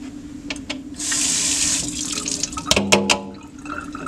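A film developing funnel is rinsed under a running tap: water gushes steadily and splashes loudly, with a few clatters and drips as the plastic funnel is handled.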